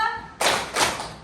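A class of pupils claps together on a teacher's count, two crisp unison claps landing close and loud in a classroom, each with a short ring after it.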